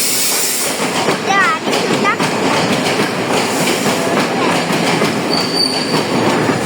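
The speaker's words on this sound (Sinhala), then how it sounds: "අන්න කෝච්චිය එනවා." A train pulls into a Sri Lankan railway station, its wheels clattering and squealing on the rails in a steady, loud rumble, with a high whistle-like tone near the end.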